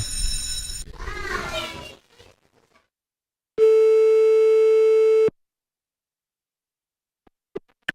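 A telephone busy tone sounds for nearly two seconds, a steady loud electronic drone that stops abruptly, heard while phoning someone; children's voices chatter before it, and a few faint clicks follow.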